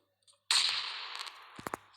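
A sudden loud burst at half a second trails into a long noisy roar that fades out, followed by two sharp thuds near the end; a grenade explosion in PUBG Mobile.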